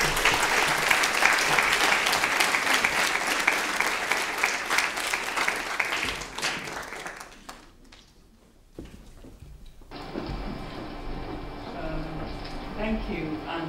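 An audience claps loud and dense to welcome a speaker to the stage, then the applause thins out and fades away. Quieter room sound follows.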